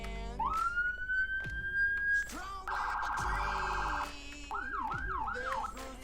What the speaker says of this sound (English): your sirens sound like this